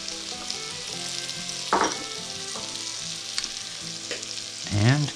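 Chopped onion and celery frying in a pot for a chicken stew, a continuous bright sizzle with occasional scrapes and clatters of the spoon, louder bursts as ingredients are moved, close and without talk.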